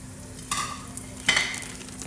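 Onions fry in a mix of butter and oil: two quick bursts of sizzling flare up about a second apart over a quiet, low hiss.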